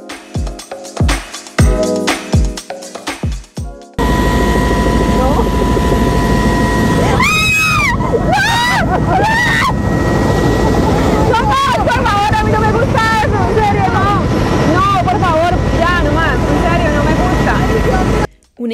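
A helicopter in flight near El Peñol rock in Guatapé, Colombia roars loudly and steadily up close, following a few seconds of crowd chatter and clatter.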